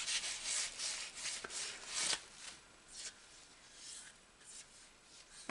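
Soft cloth rubbing strokes while the piston and cylinder of a small flame licker model engine are wiped clean, quiet, close and repeated in uneven rhythm.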